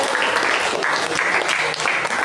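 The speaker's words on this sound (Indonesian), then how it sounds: "Tepuk tangan dulu buat kelompok." Students in a school classroom clap for a presenting group, a steady, dense patter of hands that fills the room for a couple of seconds, with faint voices mixed underneath.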